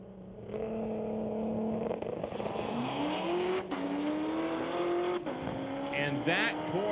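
A Volkswagen Golf and a white Corvette drag racing at Mission Raceway on a street-legal Friday night. Engines scream and rise steadily through several gear shifts, loud and close, with a brief tire squeal near the end.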